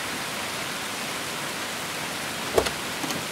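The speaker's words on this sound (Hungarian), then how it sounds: "Meg az eső is szakad." Heavy rain pours in a steady, even wash of hiss, with a couple of brief knocks near the end.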